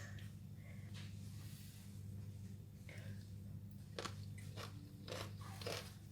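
Crunchy Thai green mango salad with roasted groundnuts being bitten and chewed close up, a few crisp crunches and bites over a steady low background hum.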